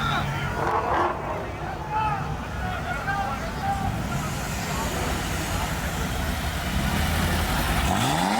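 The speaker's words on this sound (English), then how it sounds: "Oh, the go-kart." A go-kart engine drones and revs amid lively crowd chatter and nearby voices, with the revving becoming more prominent toward the end.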